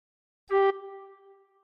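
A single soft tin whistle note with the top two holes covered, blown gently: a short breathy attack, then a clear tone that lingers faintly and dies away, solo and close with no speech.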